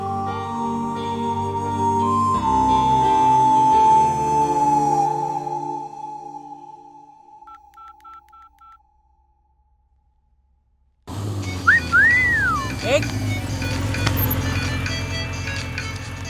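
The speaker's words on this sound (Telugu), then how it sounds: "ఎవరో ఫోన్ రా." A phone rings with a loud, melodic electronic ringtone that plays for several seconds and then fades into silence, followed by a burst of noisy background ambience.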